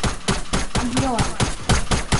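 Rapid bursts of gunfire from a 50v50 multiplayer shooter video game, crackling in quick repeated volleys across the whole moment with faint in-game tones, fairly loud and close.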